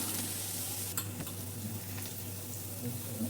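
A ground masala of coriander, fennel and cumin sizzles in a pan while being stirred, close and quiet, with soft scraping strokes over steady frying hiss, as the spice base for a samosa filling.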